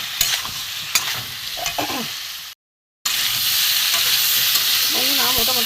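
Boiled papaya and potato sautéed in a pan, loud continuous sizzling with spatula scrapes, interrupted by a brief silent gap before the frying resumes.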